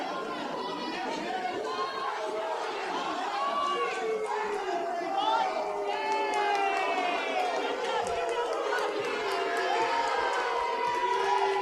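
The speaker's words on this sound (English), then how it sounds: "Fans are clapping, looking at one another, booing one another." Fans at a Chicago Catholic League high school hockey quarterfinal between Benet and Fenwick make a loud crowd din of chatter, shouts and cheering, with voices rising and overlapping throughout.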